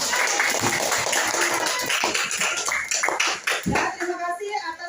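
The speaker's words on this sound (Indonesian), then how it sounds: "Kita berikan tepuk tangan." Schoolchildren in a classroom clap together in a quick, uneven round, close and fairly loud. Voices chatter over the clapping.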